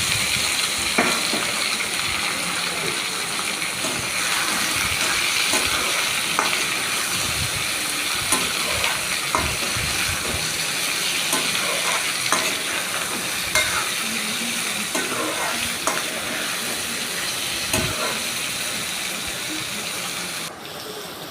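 Mixed vegetables stir-fried in a pan, a dense ongoing sizzle broken by scraping and clattering stirring strokes throughout, close and steady with no talk.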